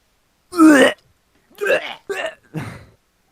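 A voice imitates a belch in a read-aloud of the Shrek script: one long, loud, throaty burp, then three shorter guttural burps in quick succession, each separated by brief silence.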